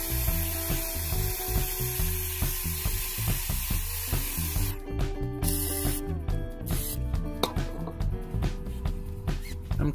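Acetone-based degreaser sprayed onto rear brake parts of a Nissan Altima Coupe, heard as repeated sharp hissing spray bursts mixed with clinks and scraping of metal parts, close and fairly loud, with no talking.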